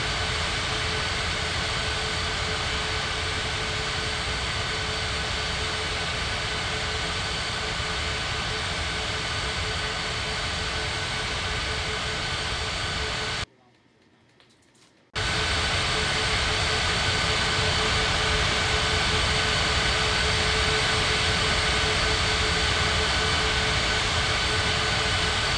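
An All Nippon jet airliner taxiing to the gate in an air traffic control game set at Ngurah Rai airport, Bali: a steady, loud engine whine and rumble that cuts out briefly around the middle, then resumes unchanged.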